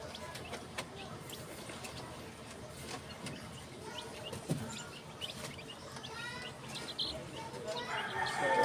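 Rhode Island Red hens clucking and a rooster crowing around a laying flock, faint and mixed into steady background noise, with chirps and a rising crow near the end.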